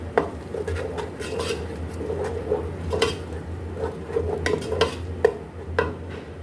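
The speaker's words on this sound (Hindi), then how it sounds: "इन सबको अच्छे से मिक्स कर लेते हैं" Garam masala and whole spices for chana pulao being mixed in a pot, with repeated scraping and clinking of a spoon against metal over a steady low background, fairly close.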